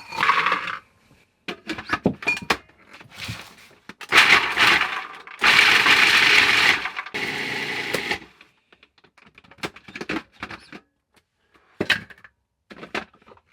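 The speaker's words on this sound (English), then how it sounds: "we can start chopping up our ingredients, beginning with the walnuts" A knife roughly chops walnuts on a board in irregular bursts of rapid cuts, separated by short pauses, close and fairly loud.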